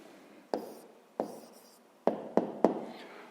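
A pen writing an answer by hand on paper for a fifth-grade maths problem, five short scratchy strokes spaced irregularly, close and quiet, with no talk.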